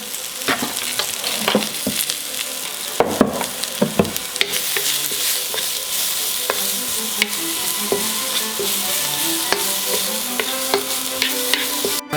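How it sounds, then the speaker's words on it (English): Leeks and ginger sizzle and crackle loudly in a hot pan, a steady fry with occasional stirring scrapes and pops throughout. "Oh, that's frying really fast."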